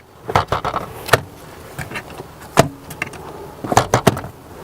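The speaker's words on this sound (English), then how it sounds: "Seats fold down, they're manual, but they're really easy to put down." Manual rear seats folding down inside a 2016 Dodge Durango, heard as a run of sharp mechanical clunks, latch clicks and thumps spread through the stretch, close and fairly loud with quiet rustling between them.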